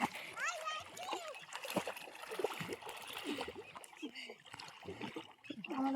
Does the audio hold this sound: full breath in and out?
no